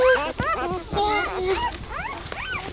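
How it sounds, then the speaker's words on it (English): Day-old newborn puppies whimper and yip in a string of high, wavering cries, close and fairly loud, one thin whine overlapping the next with no pause across the moment. "All those little puppies."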